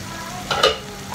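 Masala fries in a pot with a soft continuous sizzle, interrupted by a brief stirring scrape and clink near the middle, close and without talk.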